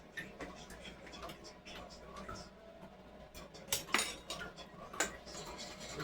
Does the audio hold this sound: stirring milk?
yes